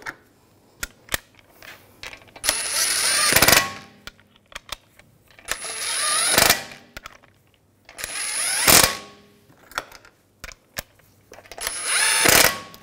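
Lug bolts on a BMW 328i wheel being snugged with a power tool: four loud whirring bursts, each lasting about a second, spaced a few seconds apart, with small clanks and handling noises in between.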